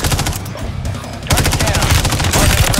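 Rapid automatic gunfire in a battle royale video game, loud dense bursts of machine-gun shots rattling continuously, briefly easing before resuming even heavier, with faint voices mixed in.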